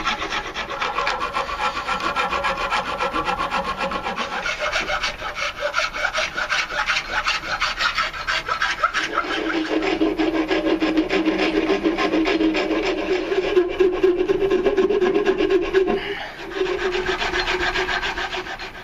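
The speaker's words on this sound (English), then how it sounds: "with this rasp here, I'm going to go ahead and remove material back down to so it's even with the metal of the tang" A rasp files down a wooden knife handle until it sits flush with the metal tang, giving a steady, close, continuous rasping and rubbing that grows slightly harsher partway through, with no talking.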